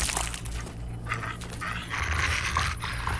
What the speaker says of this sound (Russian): Я сказал собака, и прибежала собака.